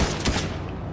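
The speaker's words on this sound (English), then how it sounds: "Oh, they're shooting." A brief, dense rattle of gunfire in Fortnite, loud and close, lasting about a second with no talk.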